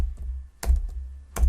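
Close keystrokes on a computer keyboard, two distinct quick clusters of clicks over a low hum.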